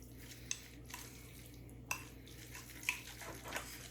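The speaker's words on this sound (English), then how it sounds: "we're just gonna go ahead and give this a mix right inside the dish" Salsa and cream cheese are mixed inside a dish, with quiet scraping and a few light clinks of a utensil against the dish over a low background hum.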